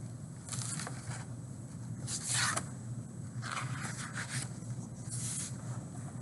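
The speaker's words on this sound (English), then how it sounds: "And zips the Z." A few quick zipping rasps come in short bursts, close and fairly quiet, over a low steady background hum.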